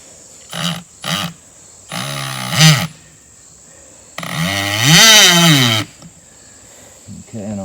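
A power driver drives screws through tire rubber, several short whirring bursts of rising and falling pitch, then a longer sustained run, all close and loud with pauses between.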